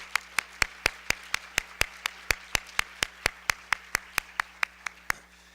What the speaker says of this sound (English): So I want to give another huge round of applause to those folks too.